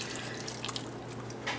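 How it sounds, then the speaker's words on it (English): Beef broth poured from a cup over a pot roast in a crockpot: a steady, close liquid splash and trickle lasting about a second and a half, with no talking. "So I've got my broth here, and we're just going to pour this all over the top."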